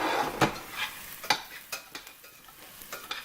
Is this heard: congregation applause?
no